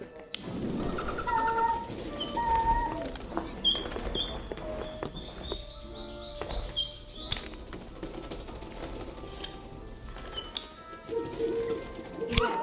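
Owls in the Magic Awakened video game coo and hoot in soft repeated calls, mixed with chirps and light background game sounds.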